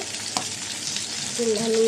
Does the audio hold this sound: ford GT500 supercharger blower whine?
no